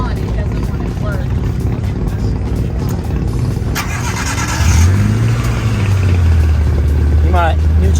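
A Subaru Impreza with a fault that appears once it is running cranks and fires into a steady idling rumble about halfway through, close and loud, with the engine droning on afterwards.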